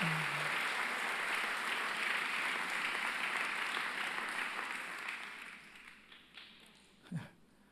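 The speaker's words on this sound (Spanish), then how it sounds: "Denle un fuerte aplauso, sí, aplauso a Jesús por esta palabra" A church congregation gives sustained applause to Jesus during a Sunday sermon, a broad wash of clapping that fills the room for several seconds and then thins out, with a few scattered claps at the end.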